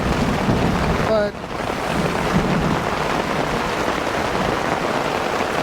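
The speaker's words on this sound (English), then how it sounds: "It's raining good on this side. It's raining good all over." Steady rain pours down on a packing day, making a dense, even hiss that lasts the whole stretch, with one brief muffled knock early on and no voices.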